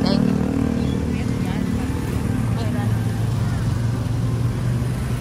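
Motorcycles and cars drone steadily along a crowded street in Sablayan, Occidental Mindoro, before a Christmas light show, a continuous low engine rumble beneath nearby chatter.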